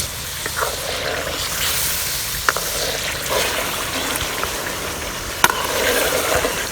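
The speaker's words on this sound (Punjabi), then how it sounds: "ਕੋਫਤਿਆਂ ਨੂੰ ਹੁਣ ਚੰਗੀ ਤਰ੍ਹਾਂ ਹਿਲਾ ਕੇ ਮਸਾਲਾ ਇਹਨਾਂ ਦੇ 4 ਚਫੇਰੇ ਲਾ ਦਾਂਗੇ।" Koftas stirred into a spinach masala gravy in a pan, a steady simmering sizzle with occasional sharp clinks of a spoon against the pan, close and moderately loud.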